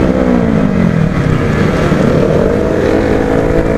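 A KTM RC 390 and a Kawasaki Ninja 390 motorcycle running together, a loud, dense engine drone close by with a slowly sliding pitch, steady throughout.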